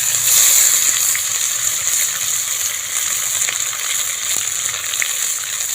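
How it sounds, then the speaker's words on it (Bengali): Boiled rice fries in ghee in a pan, giving a continuous close, bright sizzling hiss that holds steady throughout with faint crackles and no speech. "সেই কড়াইগুলো ঘিয়ের মধ্যে দিয়ে একটু ভেজে নেবো"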